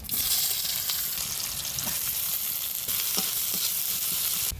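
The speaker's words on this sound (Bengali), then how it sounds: "পেঁয়াজটা সুন্দর করে ভেজে নিয়েছি" Chopped onions fry in oil with whole cumin seeds for a fish curry, a loud continuous crackling sizzle close up with occasional stirring scrapes, no voices.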